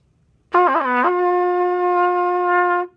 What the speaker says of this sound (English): or you'll get a really pinched tone that will sound like this.